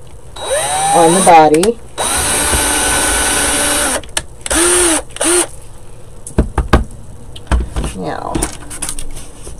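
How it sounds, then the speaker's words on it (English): An electric drill whirs in several short bursts, its pitch rising and falling as it bites, with a few knocks and brief speech between runs. "we're going to drill a hole through the middle of where the head is going to go"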